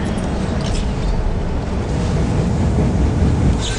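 Steady, loud wind in the Dead Space 3 video game roars as a dense broadband rush with no breaks, filling the whole stretch without talk.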